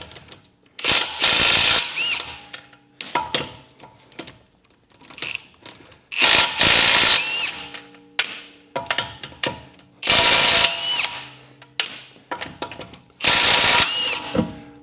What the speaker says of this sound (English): Make sure our torque wrench is going in the right direction.